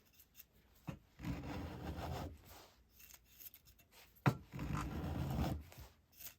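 A freshly sharpened hand scraper shaving wood in two steady rasping passes, each about a second or two long, close and clear with short pauses between.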